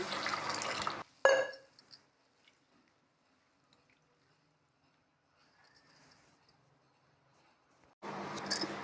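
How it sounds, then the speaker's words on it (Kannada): Rice for neer dosa is rinsed in water, heard as two short, close bursts of sloshing and splashing, one at the start and one at the end, with near silence and a few faint drips in between. "ಅದನ್ನು ನೀರು ಹಾಕಿ ಸ್ವಚ್ಛವಾಗಿ ಎರಡು ಸಲ ನೀರು ಹಾಕಿ ತೊಳೆದು ಇಡಿ"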